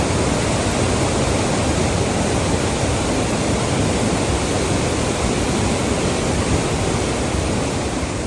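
Water pours through the gates of the Gundlakamma Reservoir near Ongole, a loud, unbroken roar of rushing flow that fills the whole scene with no other sound standing out.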